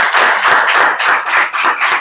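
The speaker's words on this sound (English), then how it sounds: "But a big round of applause for everybody in the class," Loud, close clapping from a class of students in a vocabulary lesson, a quick, fairly regular run of about eight sharp claps in two seconds.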